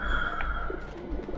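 Pigeons coo softly in a video game, Alice Madness Returns, a low murmuring call rising against steady ambient game sound, heard alone without talk.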